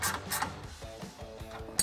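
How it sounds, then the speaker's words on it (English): A 13mm ratcheting wrench tightens a bolt on a 2021-2023 Bronco rocker guard with steps, giving soft, quiet mechanical clicking and ratcheting over a faint low background. "I'm going to take my 13mm ratcheting wrench to get to the one in the back here and tighten this one up first"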